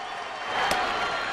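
A baseball stadium crowd of about 29,473 at a Dodgers road game roars in a steady, broad wash as the pitcher stands one out from finishing, with a brief sharper burst partway through.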